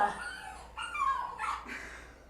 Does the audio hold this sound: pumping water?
no